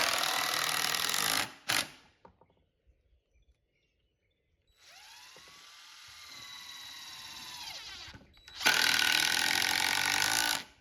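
A power drill drives 3.5-inch screws into 2x4 lumber while a swarm trap platform is being assembled, with two loud bursts of screwing separated by a quieter whining run of the motor and brief pauses, no talking.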